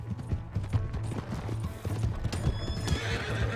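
A horse in the Red Dead Redemption 2 video game clatters along in a steady galloping clip-clop, with a loud whinny rising over the hoofbeats near the end, close and continuous with game ambience underneath.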